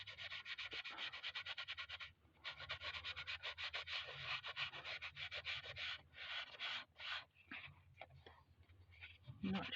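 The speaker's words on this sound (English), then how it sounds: "I'm going to take my sponge and then just push it into the cracks" A sponge is pushed and rubbed over gold foil on a handmade card, working it into the cracks with quick, close scrubbing strokes. The rubbing is steady, with brief pauses.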